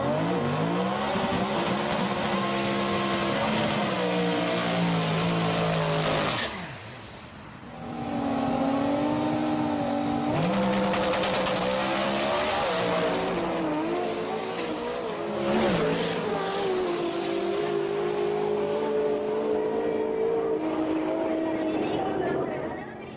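An HKS drag car roars down the strip in a long, loud pass, its engine revving and shifting in rising sweeps with a brief dip partway, with crowd chatter faintly under the noise.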